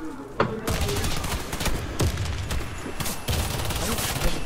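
Rapid gunfire in the shooter Warface, an air base team deathmatch, with dense repeated bursts and sharp impacts filling the clip, loud and close.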